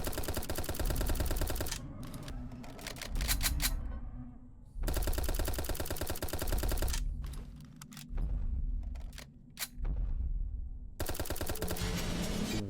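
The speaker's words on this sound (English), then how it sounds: "I literally unloaded maybe 15, 16 shotgun rounds into that big monster and it didn't die" Video game gunfire hits a big monster as rapid automatic bursts of close, loud shots, separated by short silent gaps and a few single reports.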